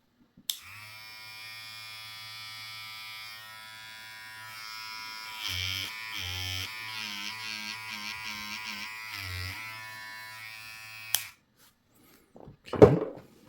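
A steady Kemei KM 1827 electric hair trimmer buzz runs for about ten seconds, its pitch wavering midway, then cuts off, followed by a short rustle.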